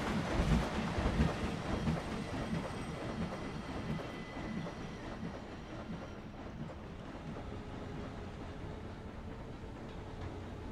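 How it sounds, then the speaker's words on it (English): Trains in the Planet Coaster game roll past each other, a steady dense rumble with faint clickety-clack of wheels, loudest at the start and then settling into a continuous even drone with no talking. "and two trains passing each other"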